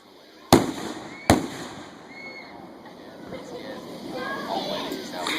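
Fireworks going off outdoors: two sharp, loud bangs in quick succession, followed by fainter crackling and distant rumble, with people talking afterward.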